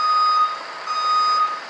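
A Boston public school bus backs out into traffic, its reversing alarm giving two long steady beeps separated by a short gap over a low engine hum.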